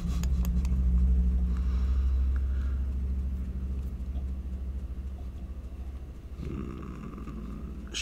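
A motorcycle rumbles outside, a low steady engine drone that swells early and then fades to a softer hum, with a brief surge near the end.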